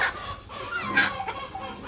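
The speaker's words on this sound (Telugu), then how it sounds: "కోళ్ళు రెడీగా ఉన్నాయి బయటికి రావడానికి" Chickens cluck and murmur in a flock housed beneath an elevated goat shed in the early morning, a steady close chorus of overlapping calls with a few brighter squawks.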